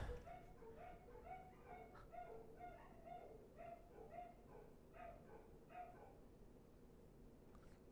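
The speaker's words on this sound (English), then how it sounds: "my neighbor's dogs are like starting choir practice right now." Several neighbouring dogs barking and howling in a loose chorus, a steady string of yips and howls at moderate distance running through the whole stretch with no voices.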